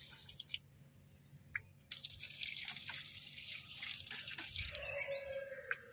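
Water from a large kettle is poured a little at a time onto potted garden plants, giving faint, intermittent splashes and trickles with small drips, then a brief louder stream near the end, with no talk.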